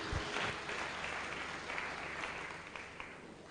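A church congregation applauds in praise of the word of God, a dense, steady wash of clapping that swells at the start and holds on without a break.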